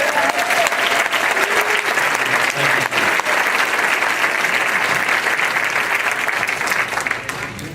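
A rally crowd claps and cheers in a steady, dense roar of applause that holds for several seconds before tapering slightly at the end, with a few faint voices mixed in.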